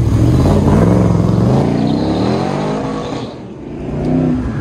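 A 1972 Corvette with side pipes and mini lights accelerates hard on an autocross course, its loud, rough V8 exhaust rising in pitch through the run, close and dominant, then dipping briefly before climbing again.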